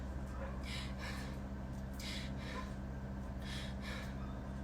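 A belly dance instructor demonstrates a breathing pattern with several short, sharp, quiet breaths in an uneven rhythm over faint steady background hum.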